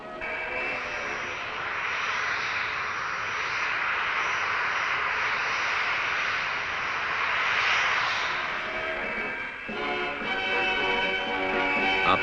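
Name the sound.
McDonnell Douglas Phantom jet aircraft engine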